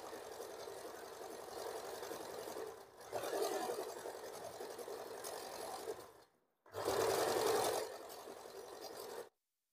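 Domestic sewing machine running a line of stitches along a folded blouse neckline seam, a steady mechanical whirr in two bursts separated by a brief pause and a short silence.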